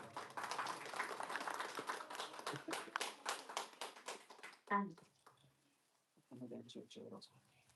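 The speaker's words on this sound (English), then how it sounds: "Give us a big round of applause for Charlie." Applause from an audience welcoming a speaker onto the stage at an inspirational live talk, dense clapping through the first few seconds, then fading out into a short pause before the speaker starts talking.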